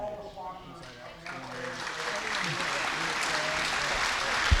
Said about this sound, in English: Please give a huge round of applause to all the sponsors of the